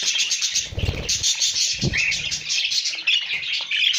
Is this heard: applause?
no